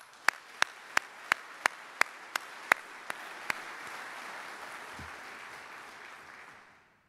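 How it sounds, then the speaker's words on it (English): Applause at a military change of command ceremony: a few sharp, loud individual claps open, then a steady crowd wash that fades out toward the end. "Please join me in another round of applause for them."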